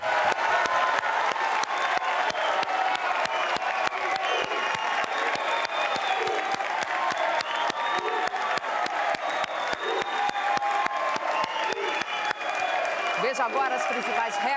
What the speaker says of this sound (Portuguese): Eu peço à plateia, somente agora, uma salva de palmas para os nossos 8 debatedores.